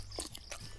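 A dog eats food up close, with a quick burst of crunchy chewing and biting that lasts under a second.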